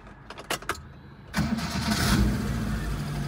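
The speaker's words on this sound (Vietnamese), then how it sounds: "Giờ em sẽ đề máy cho cả nhà mình cùng nghe âm thanh tiếng máy của em nó" A 2016 TMT 990 kg petrol light truck engine is cranked: a few short starter bursts, then the engine catches and settles into a steady, rumbling idle, close by.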